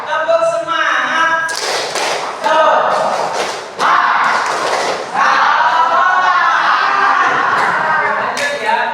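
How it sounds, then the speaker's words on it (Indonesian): Students in a classroom perform a rhythmic spirit clap, bursts of loud unison claps and thumps in a patterned beat, with chanting voices mixed in between the clap phrases. "Tepuk semangat."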